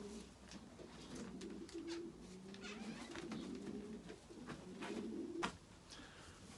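A four-year-old racing pigeon, a male that has flown 300 miles, coos at a pigeon show. The low, throaty coos repeat steadily against a faint, busy indoor background.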